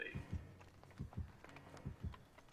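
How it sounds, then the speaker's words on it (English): A low, throbbing heartbeat warns of an approaching killer in Dead by Daylight, coming as faint paired thumps in a steady rhythm, quiet and alone. "I can hear the heartbeat and it's fading away"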